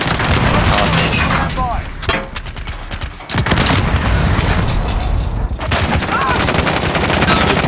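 RPG blasts and rapid gunfire fill a Modern Warfare match, loud bursts and booms stacked close together with a brief lull midway, a voice talking over the battle.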